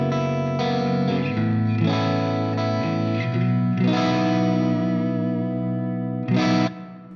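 Ibanez AZ Standard electric guitar on the neck pickup through a clean channel with chorus-like effects, playing a flowing run of chords and single notes with a final strummed chord, close and alone.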